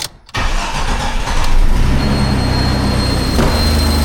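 A Jeep Cherokee XJ engine cranks and catches after an intake manifold repair, the start loud and close, then settling into a steady, rumbling idle that runs on to the end.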